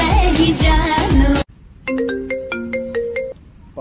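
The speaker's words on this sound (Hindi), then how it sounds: "पापा का फोन आ रहा" An incoming-call phone ringtone plays a bright, melodic chime pattern of repeated tones. It starts clearly and alone right after loud music cuts off.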